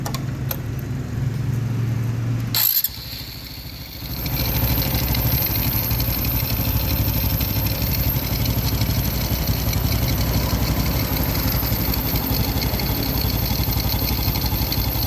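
An engine with a freshly cleaned carburettor catches with a sharp start after a brief low rumble, then settles into a steady, close, continuous idle hum for the rest of the stretch.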